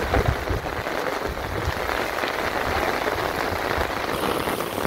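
Steady rain falls in a village, a dense, even hiss of drops on surfaces that holds at a constant level throughout with no voices.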